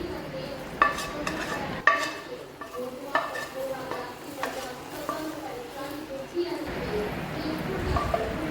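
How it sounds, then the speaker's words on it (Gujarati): A spoon scrapes and clinks against a pot of milk being cooked down for thabdi penda in irregular strokes, with a soft bubbling hiss underneath and a voice speaking over the stirring. "સતત ચમચાના મદદથી ચલાવતા રહેવાનું છે"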